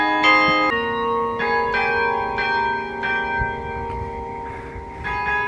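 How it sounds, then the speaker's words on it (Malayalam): Church bells of a heritage church in Australia ring in a steady sequence of clear, sustained tolls, each note overlapping the last with long decays, at evening with no one talking. "ആ പള്ളിമണിക്കൊക്കെ എന്ത് രസമാണെന്നറിയോ"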